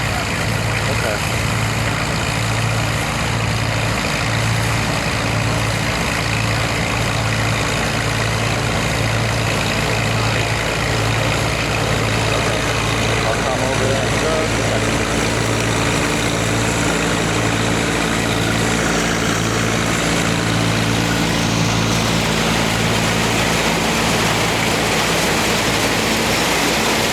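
A Minneapolis Moline Jetstar tractor engine runs steadily at a tractor show, a low, rhythmic pulsing throb repeating evenly throughout, with a broad background of crowd and ambient noise.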